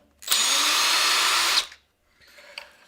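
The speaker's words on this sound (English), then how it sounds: "I'm going to use the drill" A cordless power drill whirs steadily at high speed for over a second, then stops while unscrewing parts on a Typhon 6S RC car. A quieter, brief second burst follows after a pause.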